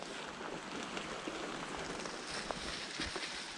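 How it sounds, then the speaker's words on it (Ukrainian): Steady rain falls through a beech forest in the lowland Carpathians, a dense, even hiss of drops pattering on leaves and ground with no gaps. "Дощик падає так порядно."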